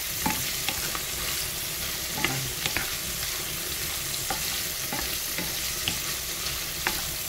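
Spinach and mushrooms sizzle in a hot pan as they are stir-fried, with a steady frying hiss broken by regular scraping and tapping strokes of the spatula.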